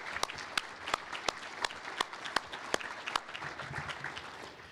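An audience at a city State of the City address gives a round of applause, a thin, fairly distant patter of clapping with a few sharper individual claps standing out.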